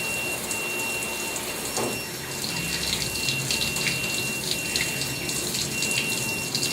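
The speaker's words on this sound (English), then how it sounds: "I'm going to let the water run from the top to the bottom." Tap water runs steadily over hands and forearms at a scrub sink during a surgical hand scrub in an operating room setting, a continuous close splashing hiss with no talk.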